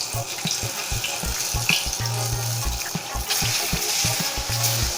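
Unniappam batter, a Kerala sweet, sizzles in ghee in the wells of an appam pan over low heat, a steady crackling hiss with soft, regular low bubbling pops underneath.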